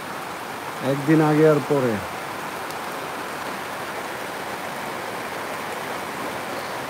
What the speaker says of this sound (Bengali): আমাদের বৃষ্টি দেখে কেউ কষ্ট নিয়েন না, যাদের বৃষ্টি না হচ্ছে।